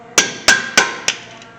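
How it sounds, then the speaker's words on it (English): Hammer tapping a brake rotor loose on a 2007 Honda Accord: four evenly spaced metallic strikes with ringing decay, close and loud, the last one slightly softer. "I take a hammer, give it a little tappy-roo till it breaks loose"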